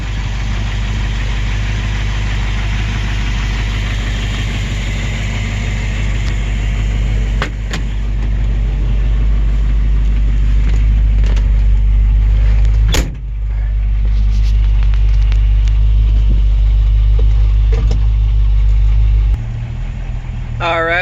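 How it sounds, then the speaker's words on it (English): A 1934 Ford pickup truck's engine idles loud and close with a steady low rumble, a couple of sharp clunks breaking through, while someone talks over the running motor. "It's a nice running truck."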